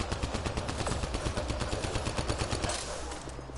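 Rapid automatic gunfire in the Mass Effect video game: loud, steady bursts of shots packed tightly together for several seconds, easing off slightly near the end.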